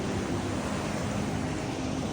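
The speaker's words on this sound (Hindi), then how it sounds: "इतना खतरनाक है ना ये पानी" Rushing floodwater in Himachal after a flood that swept away a sturdy building, a dense, steady broadband roar with no breaks, loud and continuous like heavy surf, with no voices over it.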